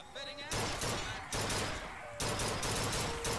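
Gunfire in the video game BioShock Infinite: several loud sustained bursts of rapid shots, separated by short quieter gaps.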